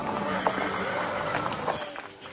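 Horses shift and step at a ranch stable, giving scattered hoof clops and thumps under an ongoing murmur of people talking nearby.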